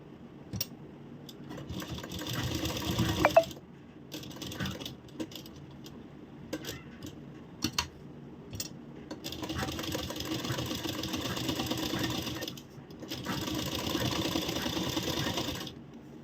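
A sewing machine stitching a blouse collar in several sustained runs of rapid, even mechanical chatter, with quieter handling clicks and rustles between the bursts.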